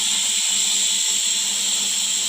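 Spice mix hitting hot oil after tempering, sizzling with a steady, loud, even hiss close by and no other sounds.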